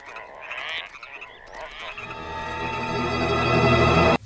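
Cartoon frogs from American Dad croak in a busy, layered chorus that builds into a long, loud, sustained croak before cutting off abruptly.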